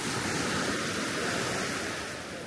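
Sea waves at Velipojë beach in northern Albania wash in a steady, broad roar of surf that stays loud and close throughout, with no talking over it.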